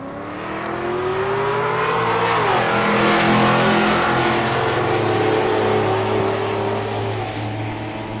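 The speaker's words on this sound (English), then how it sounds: "Berg, the T-type Regal in the left lane." Drag race cars, including a Buick T-type Regal, launch and accelerate hard at Tulsa Raceway Park, a loud engine roar rising in pitch, shifting gear, then climbing again as it carries on.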